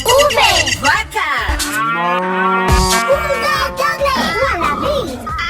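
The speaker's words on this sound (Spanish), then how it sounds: "V. Vaca." A cow gives one long, deep, drawn-out moo that rises and fades, loud and close, set within upbeat children's music with brief childlike voices around it.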